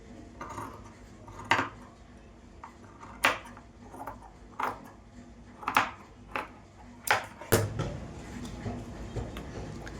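Sharp snips sound as the excess margin is cut off a stitched blouse, roughly ten crisp cuts at uneven intervals, close and distinct over a quiet room.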